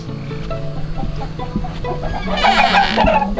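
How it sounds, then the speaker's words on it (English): A rooster clucks and squawks close by while being picked up and carried on moving day, with rustling and farmyard noise around it. "Got the main rooster."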